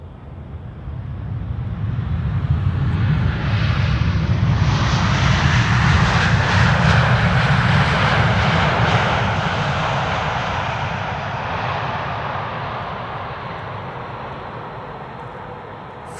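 Nearly new KLM widebody airliner landing at Amsterdam Schiphol Airport, a loud roaring jet engine rush that swells as the aircraft passes close overhead, then slowly fades into a distant rumble.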